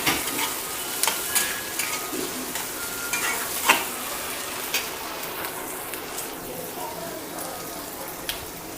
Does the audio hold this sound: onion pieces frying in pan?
yes